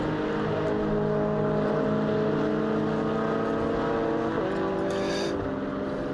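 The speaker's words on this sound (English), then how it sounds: "Porsche coming into pit lane." A Porsche race car rolls into the pit lane during the Nürburgring 12-hour race, its engine a steady, close droning hum with a brief dip in pitch partway through before settling again.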